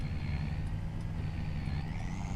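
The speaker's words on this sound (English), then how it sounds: "Because extra wide and heavy transport coming through" A heavy transport truck hauling an extra-wide load in Farming Simulator 25 drones with a steady, low engine rumble, continuous and close, with no talk over it.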